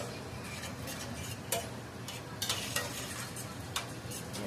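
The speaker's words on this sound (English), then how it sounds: "Mix that in so that way it can deglaze the bottom" Water is stirred into browned ground meat to deglaze the pan, giving a soft bubbling sizzle broken by several sharp utensil scrapes and taps against the pan.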